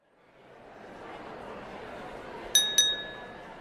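Two drinking glasses clink together in a toast, two bright ringing chimes about a third of a second apart that ring out over a soft, steady background hiss.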